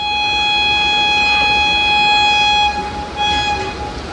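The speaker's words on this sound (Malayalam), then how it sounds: "നമ്മുടെ വണ്ടി എടുക്കുന്നതിന് മുന്നേയുള്ള ഹോണടിയാണ് നിങ്ങളിപ്പോൾ കേട്ടത്" A train horn sounds before departure on a Kerala rail journey from Payyanur toward Palani: one long, loud, steady blast, then a brief pause and a shorter second blast.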